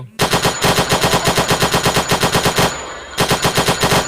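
Rapid automatic gunfire in a video shooting game, L85A1 rifle firing in bursts: a loud, evenly paced stream of shots, a short pause, then another burst, with no talk.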